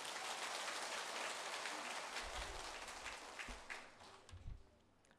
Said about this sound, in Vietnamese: đáng được quan nghênh toàn thể đạo tràng cho một tràng pháo tay nữa đi